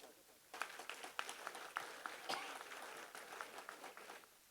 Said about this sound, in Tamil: இப்ப எல்லாரும் கைதட்டினீங்க, மகிழ்ச்சி.